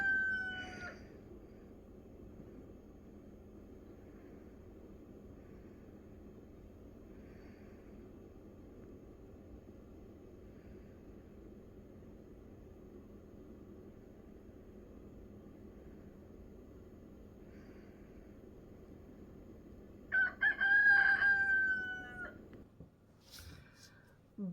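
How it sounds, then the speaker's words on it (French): A rooster crows in a short, loud, harmonic burst near the end, with a fainter crow at the very start, over a long stretch of low, steady background hum. "mon coq qui est en train de chanter"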